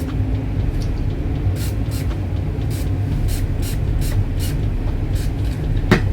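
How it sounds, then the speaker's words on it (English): A hair spritz sprayed onto a wig in a series of short, sharp hissing bursts, about seven or eight evenly spaced puffs over a steady low background hum. "now I'm gonna go in with my spritz."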